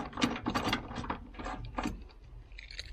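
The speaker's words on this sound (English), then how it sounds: "Put the bolt back in." A ratchet tightens the bolt on a tailgate assist strut during installation, producing a series of close, quick metallic clicks in short bursts.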